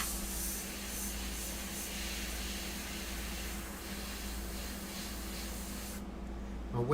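A continuous airbrush hiss sprays India ink steadily for several seconds, then cuts off abruptly near the end.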